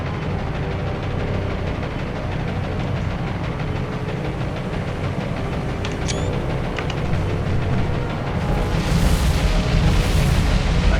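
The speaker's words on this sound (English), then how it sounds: "Still more torpedoes coming." Distant naval torpedo explosions in the War on the Sea game sound as a steady heavy rumble with deep booms and whooshing water, swelling louder near the end.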